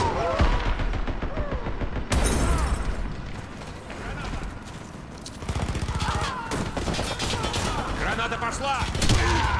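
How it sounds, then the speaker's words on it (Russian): A grenade thrown and going off in the shooter game Warface: a heavy broadband blast erupts around two seconds in, amid dense, continuous close-range gunfire and bursts that fill the whole stretch. "Кидаю гранату!"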